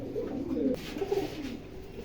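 Sakhi pigeons, a male and female pair, give a brief run of low throaty coos up close, two short rolling phrases over faint background hum, with no speech.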